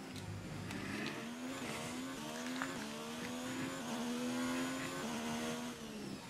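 Engine of an F1 car in F1 2019 racing game whines loudly throughout, pitch stepping and sliding as the driver brakes and shifts, a steady high-revving drone with no voices.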